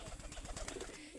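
Pigeons on a small farm coo in a close, steady run of soft low throaty calls, repeating without a break and with no voices over them.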